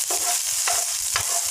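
Onions frying with beef in a pan with only a little oil, a close, constant sizzle broken by three rhythmic scraping stirs of a utensil.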